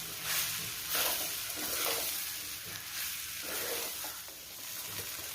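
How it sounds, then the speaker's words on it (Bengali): Cut ash gourd pieces are stirred and mixed with other vegetables in a pan for a hilsa fish head chorchori, a soft low hiss with repeated scraping strokes at moderate volume. "আগে থেকে কেটে রাখা চাল কুমড়োগুলো আমরা দিয়ে দেব তারপর ভালো করে মাখতে হবে"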